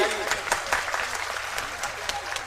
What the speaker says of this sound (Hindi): इसलिए उन सितारों के नाम एक जोरदार तालियां बजाइए